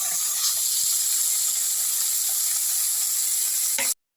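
Two small fish frying in hot oil in a home kitchen, a loud continuous sizzle and hiss with faint crackles, steady throughout before cutting off abruptly at the end.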